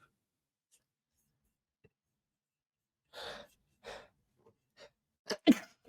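A single sharp sneeze bursts out near the microphone after a few quiet breaths and small ticks, close and fairly loud, during an online chess broadcast.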